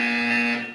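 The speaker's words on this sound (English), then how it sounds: "When you hear the buzzer, stare at the art" A steady electronic buzzer from Portal 2 sounds once, loud and continuous, holding an even tone before fading out at the end.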